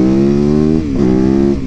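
A 2019 Yamaha YZ450FX supermoto drones loud and close while riding, its engine note holding steady, then dipping and climbing again as the throttle shifts.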